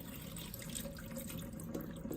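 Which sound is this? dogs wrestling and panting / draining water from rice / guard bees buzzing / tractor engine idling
draining water from rice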